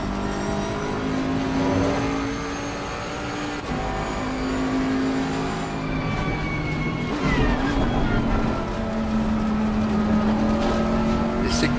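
A Bentley race car at Mount Panorama Bathurst in Assetto Corsa Competizione brakes into a corner, downshifts to third, then reaccelerates, engine tone dropping and climbing again loud and continuous while someone talks over it.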